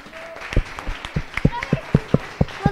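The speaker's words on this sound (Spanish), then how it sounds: "Dale un aplauso al Señor" A church congregation claps in scattered, uneven bursts, single claps spaced irregularly rather than building into full applause, with voices faintly audible underneath.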